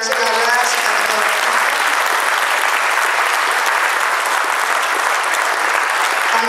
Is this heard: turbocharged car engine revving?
no